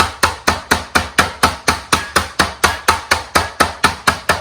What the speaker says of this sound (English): what I'm gonna do is with the knobby side of the hammer,